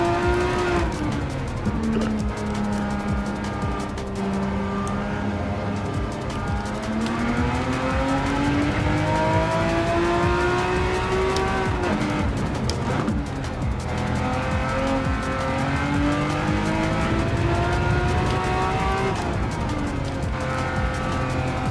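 A Ferrari Testarossa races in Gran Turismo 7, its engine droning continuously with pitch rising and falling through gear changes and occasional tire squeal, loud and sustained throughout.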